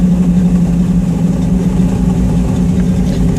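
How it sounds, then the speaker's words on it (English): Chevrolet K5 Blazer engine with a comp cam idles high and steady. A loud, close low throb with an even lumpy pulse runs throughout and no voices. "It kind of, if you can hear me, it idles high first."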